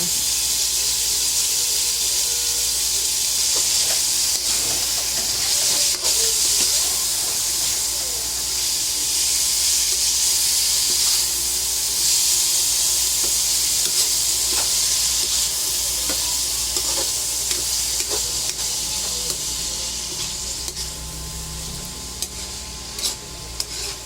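Bitter gourd, or ampalaya, sautés in a pan with a loud, steady hiss and sizzle, steam rising throughout and occasional clicks of stirring near the end.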